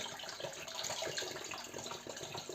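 Pickling cucumbers being rinsed by hand in a basin of water, giving a steady close splashing and sloshing with no talk.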